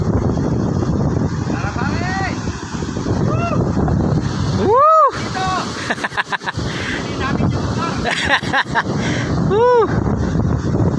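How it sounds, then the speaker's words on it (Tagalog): Strong wind roars steadily across the microphone aboard a small boat on choppy sea near Tagkawayan, with waves slapping beneath and a man whooping briefly over the gusts. "Lakas ng hangin mga idol."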